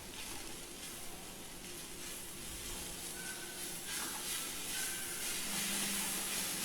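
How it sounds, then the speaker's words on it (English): Crushed garlic, ginger and finely chopped green chilies sauté in a pan after onions, giving a soft, steady hiss and sizzle close by with faint clinks, continuous and without voices. "Saute this for some time"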